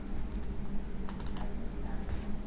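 Computer keyboard keys tapped as backspace and enter are pressed, giving a quick cluster of a few crisp clicks over a low steady room hum, close and fairly faint.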